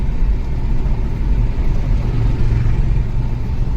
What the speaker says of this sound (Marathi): आता हे टेम्पो आले बघा टेम्पो कसे आले